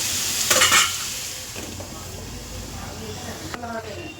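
Food frying brown in a covered pan, a steady sizzle with a couple of clanks of the lid or utensil near the start and end.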